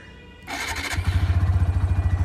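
A TVS Apache RTR 160 2V motorcycle engine cranks and fires up, then settles into a loud, steady, throbbing idle close by.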